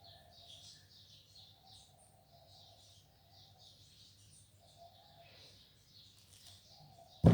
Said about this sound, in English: you can finally hear all these beautiful birds singing outside